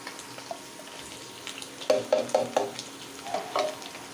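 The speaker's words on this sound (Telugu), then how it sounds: "ఇలా ప్రాన్స్ వేగిన తర్వాత కొంచెం ఆనియన్స్ పచ్చిమిర్చి వేసేసుకోండి." Prawns, onions and green chillies fry in hot oil for a curry, giving a steady low sizzle with a quick run of four stirring scrapes near the middle and two more toward the end, close and moderately loud, with no talking.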